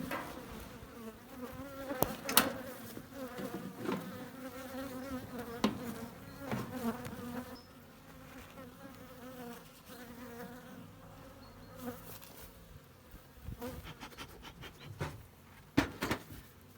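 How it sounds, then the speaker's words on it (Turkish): Steady buzzing of many honeybees close by at a hive being checked before splitting, a dense droning hum with occasional louder passes and soft knocks, no voices. "Zayıf arılarımız var mı? Hala var. 3 çerçeve, 4 çerçevede arılar var."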